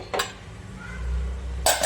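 A pressure cooker with cooked dal is opened, two short metallic clanks of the lid a moment apart over a low background hum, close and brief, without voices.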